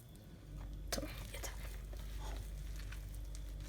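Salty cookie dough is stirred and kneaded by hand in a bowl, making soft, sticky, squishy patting and slapping sounds up close, steady and quiet with no voice over it.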